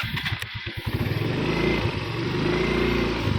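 A motorcycle engine runs close by, starting with a few uneven sputters and blips, then settling into a steady, loud idle that continues to the end with no talking.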